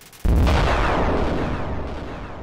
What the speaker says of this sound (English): Do you ever hear that explosion?